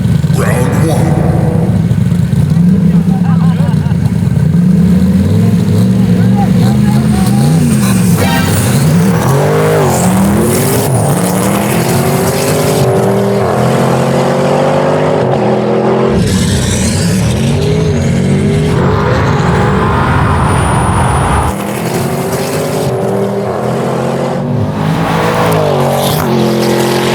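An 800 hp 2021 Audi RS6 Avant and a 950 hp 1967 Camaro Pikes Peak special drag race, engines roaring loudly with revving and shifting throughout, as excited voices shout over the noise.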